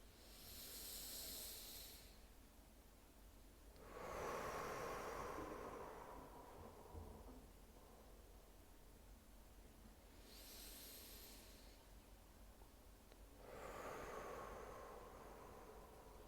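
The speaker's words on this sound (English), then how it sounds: "let's take a few deep breaths together" Slow, deep breaths recur during a guided breathing exercise: three long breathy inhale-and-exhale cycles, soft and close, with quiet pauses between them and no talking.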